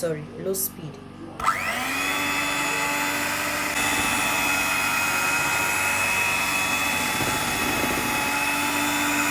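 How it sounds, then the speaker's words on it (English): Talk opens briefly before an electric mixer starts whisking flour, salt, baking powder and baking soda on low speed, settling into a loud, steady, continuous motor whir that fills the rest. "I'm going to whisk on low speed."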